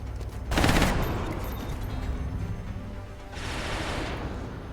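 Gunfire in the strategy game XCOM: Enemy Unknown, two broadband bursts of shooting, the first loud and short, the second longer and slightly softer, over a low steady game ambience with no talk.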